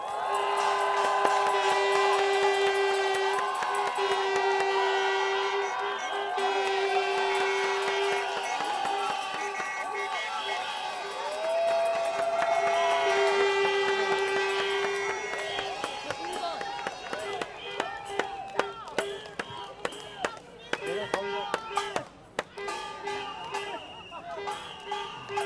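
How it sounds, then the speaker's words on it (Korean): A crowd at a candlelight rally in Korea applauds and cheers as lawmakers are welcomed, with a sustained wash of clapping under amplified voices and music, thinning into scattered claps toward the end. "분들을 큰 박수로 모시겠습니다."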